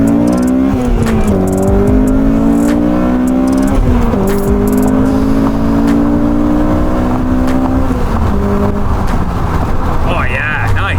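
8th-gen Honda Civic Si accelerating hard with a rising engine howl that drops sharply at the shift from first to second, then climbs again, heard loud from inside the car with people talking over it.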